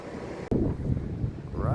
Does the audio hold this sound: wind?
yes